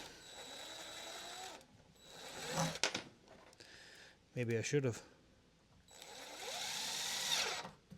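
A power drill whirs in several bursts, with a strained, rising whine as screws are driven in without pre-drilling while building a garage tote storage rack, and a short spoken remark between bursts.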